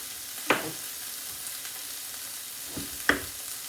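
Frozen peppers sizzle softly in a pan, a faint steady hiss broken by a few sharp clinks and taps of a utensil.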